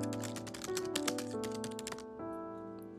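Notes are typed on a keyboard in quick runs of light clicking keystrokes over a steady tonal background hum, with a brief pause near the end.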